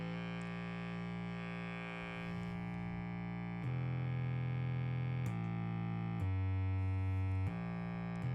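A modified Boss DS-1 distortion pedal with 4-way clipping and circuit-bent synth mods self-oscillates in a loud, sustained buzzing drone whose pitch jumps between several steady tones, switching abruptly every second or two with no one talking.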